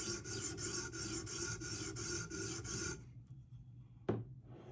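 A Spyderco Para 3 knife blade rasps across a whetstone in about eight even back-and-forth strokes, close and gritty, then stops, with one quick final scrape.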